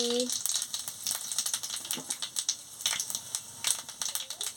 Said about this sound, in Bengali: এবার তেল গরম হয়ে গেছে পাঁচ ফোড়ন আর শুকনো লঙ্কাটা দিয়ে দিচ্ছি